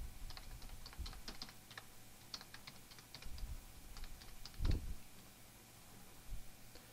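School login details typed on a computer keyboard, quiet bursts of light key clicks in a close, hushed room.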